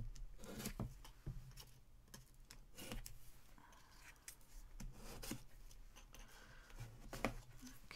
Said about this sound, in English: we're just going to give these a quick rub down.